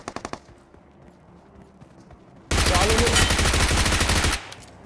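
A loud, sustained burst of automatic cover fire from a shooting video game rattles for about two seconds after a quieter stretch with a few faint shots at the start.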